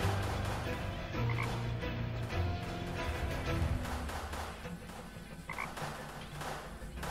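A steady chorus of toads croaking in Deponia, dense overlapping calls that run continuously throughout, fairly loud with slight fading toward the end.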